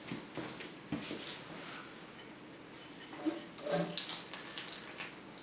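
Muddy, rusty water gushes and splashes out of holes in an uneven stream, with a brief thump early on and the flow growing louder and hissier toward the end.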